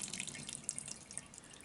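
Water trickles and drips from an old commercial Snapper lawn mower, a faint, steady wet splashing with scattered small drops and no voices.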